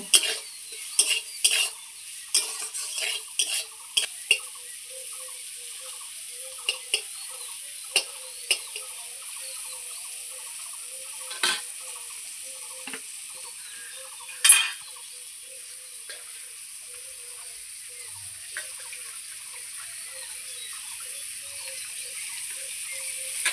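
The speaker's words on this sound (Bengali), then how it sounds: "দিয়ে করলাটাকে খুব সুন্দর করে আবারও ভেজে নেব" Bitter gourd frying in a pan with salt and turmeric, a steady soft sizzle with sharp clicks of a spatula against the pan, several in quick succession early on and one louder knock midway.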